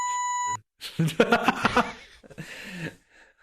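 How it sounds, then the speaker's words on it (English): A loud, steady censor beep sounds for about half a second, followed by someone talking and a short laugh. "There will just be a beep when I say."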